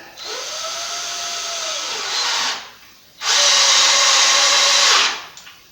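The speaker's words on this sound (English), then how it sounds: "I'll put the first screw in on the board here" A power drill drives screws into a wooden concrete header board, two loud, sustained whirring runs of a couple of seconds each, close by, with a brief pause between them and the pitch dipping as each screw tightens.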